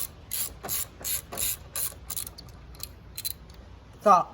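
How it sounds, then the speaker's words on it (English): A ratchet socket works a clipped-in sensor loose on a Honda Civic, giving several sharp, close clicking bursts at a steady pace, then a brief louder metallic rattle at the end. "This socket goes right over where it clips on, and just take it out."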